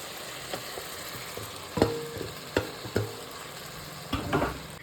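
Tomatoes frying in curry in a pan, with a soft background sizzle broken by several sharp clatters of stirring and spoon strikes, close and moderately loud, no voices.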